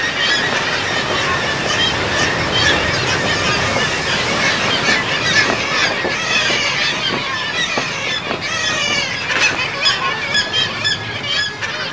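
A dense colony of kittiwakes resting on cliffs in Kamchatka, calling continuously in overlapping high-pitched cries, steady and loud throughout.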